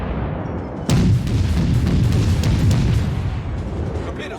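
American Tier III cruiser St. Louis fires its guns in World of Warships, a heavy booming salvo that breaks in sharply and rumbles on loudly in a dense, sustained roar.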